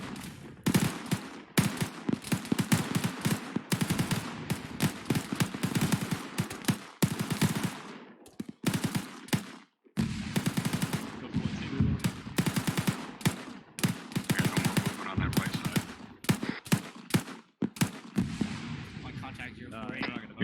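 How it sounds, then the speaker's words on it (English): Bursts of AK rifle fire in a military shooter game, rapid volleys and single cracks repeating through the stretch with short pauses, loud and close, mixed with occasional radio-style voices. "Here an AK fire to our north though, like northeast."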